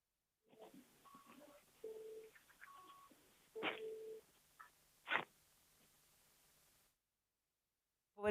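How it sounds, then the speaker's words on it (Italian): Telephone tones sound faintly on a radio call-in line: a short sequence of beeps of differing pitch, then a few louder tonal blips, followed by near silence and an abrupt noise at the end. "Era il telefono."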